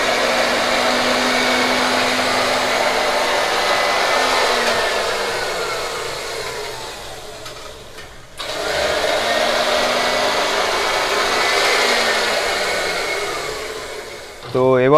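A fabric cutting machine slicing through stacked cloth for a nightie pattern in a garment factory, a steady loud motor whine running almost continuously with a brief dip midway before resuming.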